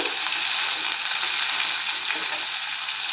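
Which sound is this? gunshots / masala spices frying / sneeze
masala spices frying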